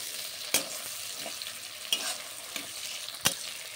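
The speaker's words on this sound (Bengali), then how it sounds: "এরপর ভালো করে আবারও একটু নাড়িয়ে নেব।" Chopped tomato and split green chillies fry steadily in oil for a village-style chicken and cauliflower curry, with a soft continuous sizzle broken by three sharp scrape-clacks of the spatula as they're stirred, close by and with no one talking.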